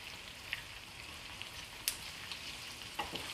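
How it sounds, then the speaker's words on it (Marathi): Onion frying in oil in a pan, a steady soft sizzle and crackle throughout with a few tiny pops, fairly faint and close, no voices. "आता आपल्याला कांदा तळून घ्यायचा आहे कांदा आपल्याला तेलावर चांगला लाल परतून घ्यायचा आहे"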